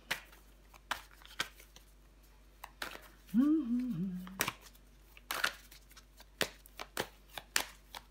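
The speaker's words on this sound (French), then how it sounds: "On va recouvrir des cartes." Tarot cards are laid out on a table and covered one by one, giving a series of sharp, close slaps and soft shuffling sounds. A brief voice-like hum rises in the middle.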